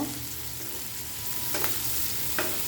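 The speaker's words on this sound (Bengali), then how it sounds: "এখন আমি এখানে তিন চারটা শুকনো মরিচ দিয়ে দিব ভালো করে ভেজে নেব" Dried red chillies fry with roasted tomatoes in a pan, giving a steady, close sizzle with two brief scraping stirs of a spoon near the end.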